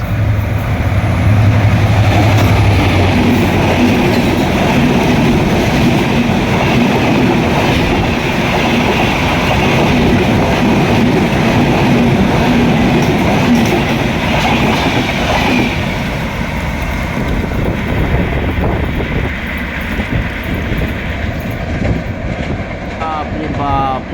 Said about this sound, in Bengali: ঝড়ের গতি সেই গতিশীল একটি ট্রেন অত্যন্ত দ্রুত গতিতে পার করলো আজিমনগর